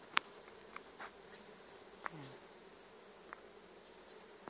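Faint insect buzzing drifts in and out, with a few brief close passes over a quiet outdoor hush; no one speaks.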